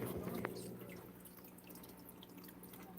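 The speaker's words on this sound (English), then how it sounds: "I'm going to pour the rest of the water in here." Water is poured into a fish tank, a quiet continuous trickle with small drips and splashes over a low steady hum, no voices.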